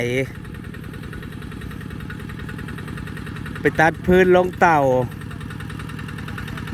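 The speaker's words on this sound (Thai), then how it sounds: "รถไถ" A tractor engine runs at a steady, loud idle-like chug outdoors, continuous throughout, while someone speaks over it briefly near the end.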